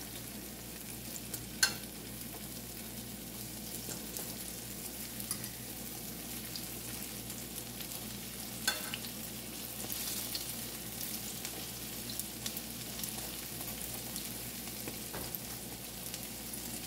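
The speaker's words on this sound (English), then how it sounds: "And allow them to fry for another minute or two." Banana fritters sizzle in hot oil in a pan, a soft continuous frying hiss with occasional pops and light utensil clicks, close and fairly quiet with no voices.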